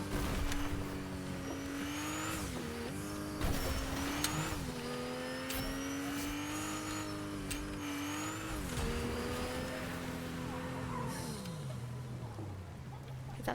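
A car in a video game cruising with an engine whine that rises and dips as it shifts and accelerates, plus short bursts of tire squeal, continuous and fairly prominent with faint background talk.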